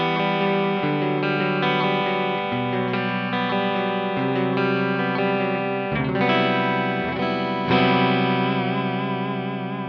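Electric guitar on the neck pickup with a coil split, played through a JOYO Clean Glass pedal for a clean tube tone: steady, ringing chords that change every second or so, with a slight warble near the end.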